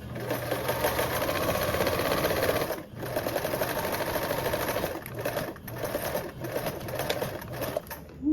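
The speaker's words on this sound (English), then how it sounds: "stretch the other side lightly, just the same, and then continue sewing" A sewing machine stitches elastic onto a fabric toiletry bag, a steady close mechanical whir with a rapid needle rhythm, briefly pausing a few times before running on.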